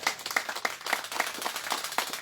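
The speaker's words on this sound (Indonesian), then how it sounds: "Beri tepuk tangan lagi buat PT BES." Audience applause at a company event celebrating the firm PT BES: dense, sustained clapping from many hands, fairly loud and steady throughout with sharp individual claps standing out.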